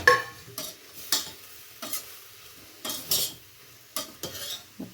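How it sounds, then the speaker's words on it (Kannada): Spices and paneer frying in a pan for palak paneer, with a faint sizzle under a series of sharp spoon scrapes and stirring clatters against the pan, close and without talk. "ಹಾಕ್ಕೊಂಡು ಅದನ್ನು ಫ್ರೈ ಮಾಡ್ಕೊಳ್ಳಿ. ಫ್ರೈ ಮಾಡಿಕೊಂಡು ಪನ್ನೀರನ್ನ ಹಾಕ್ಕೊಳ್ಳಿ."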